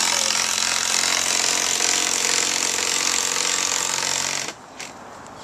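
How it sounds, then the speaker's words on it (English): Power tools run at a foundry party, a loud, harsh, steady mechanical roar close by for about four seconds before cutting off abruptly into quiet with a couple of small clunks. "boys with power tools."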